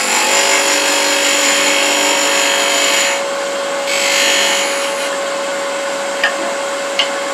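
Wood lathe turning a tenon on a wood blank, a steady loud whirring hum with a constant motor tone and rough scraping texture, easing briefly midway, with a couple of sharp ticks near the end.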